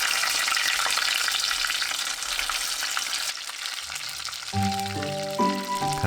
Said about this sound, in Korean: 속이 익었나 걱정하지 말고 노릇하게 튀겨서 바로 꺼내면 돼요.